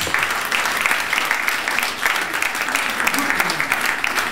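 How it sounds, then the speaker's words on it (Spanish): Audience applauding after a love song at a live Spanish-language music show, a dense, steady wash of clapping filling the whole stretch at even strength. "Gracias por los aplausos."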